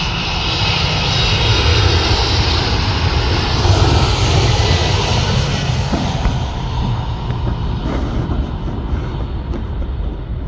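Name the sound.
UPS Boeing 767-300ER jet airliner at Chicago O'Hare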